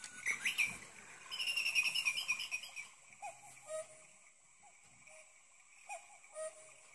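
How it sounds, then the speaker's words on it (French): A Cuculino cuckoo clock's chime plays as a high, bright bird-call melody, followed by softer short tweet-like notes, fairly close and alone with no talking. "Je vais vous montrer sa sonnerie."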